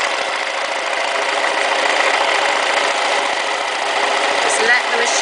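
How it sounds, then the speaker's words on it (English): A domestic sewing machine zigzag-stitching along fabric edges, whirring at a fast, even, continuous pace with a faint click near the end. "So we just set our machine onto zigzag and we neaten these edges."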